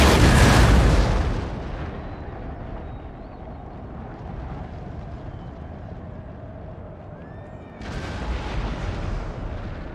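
Cannon artillery firing during a battle in Empire: Total War, with a loud opening boom that fades into a rumbling, crackling din before a second blast near the end.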